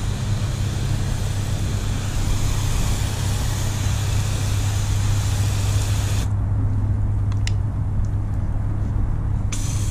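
A garden hose nozzle on its mist setting sprays water over a freshly ceramic-coated car, a loud continuous hiss that cuts off abruptly partway through, leaving faint background noise.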